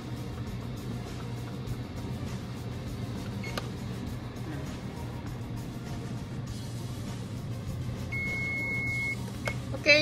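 A kitchen oven timer beeps in a short burst near the end while baked sushi cooks, following a long stretch of steady low appliance hum with faint clatter.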